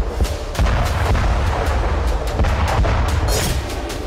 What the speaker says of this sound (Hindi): ग्राउंड में होते ये धमाके, ये तबाही रूसी राष्ट्रपति व्लादिमीर पुतिन का प्रतिशोध है।